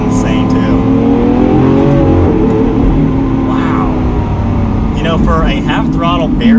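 Heard from the cabin, a 2016 Lamborghini Aventador SV V12 with a single-clutch gearbox pulls at half throttle, a loud, steady roar rising gently in pitch with a slight shift near the end.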